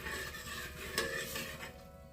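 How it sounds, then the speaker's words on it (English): Spoon stirring millet pongal with sea salt and turmeric in a pressure cooker pot, soft scraping and light metallic clinks over a faint sizzle, close and steady, no voices. "Stir for a while."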